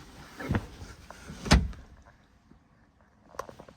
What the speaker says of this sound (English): I'll give you an example of opening the door.